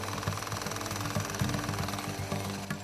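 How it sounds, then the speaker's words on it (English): Air hammers pound concrete over a buried urban stream during demolition of an overhead highway, a rapid continuous rattling mixed with engine noise at a steady, fairly loud level. "Once air hammers open the way"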